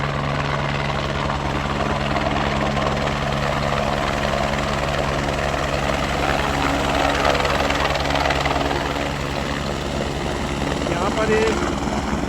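A helicopter runs steadily and loudly at the Kedarnath Dham helipad in the Himalayas, where flights operate constantly. Its rotor throb and engine whine continue without a break, with voices faintly underneath.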